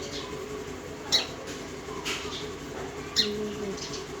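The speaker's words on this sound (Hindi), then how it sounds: "ये मोटा चिरोटा और ये मोटी चिड़िया" Sparrows chirping nearby, a few short sharp chirps spaced over a soft background murmur.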